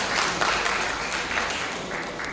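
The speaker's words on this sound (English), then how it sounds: "Applause for him." An audience at a university inaugural lecture applauds, a continuous dense patter of many hands clapping, fairly loud and even, with no voices on top.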